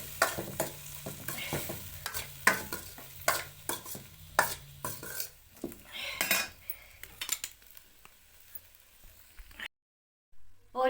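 Vegetables with cauliflower are being stirred and mixed in a pan, with repeated clattering spoon scrapes against the metal over a soft sizzle. The clattering is busy at first, then thins out before a short silence near the end.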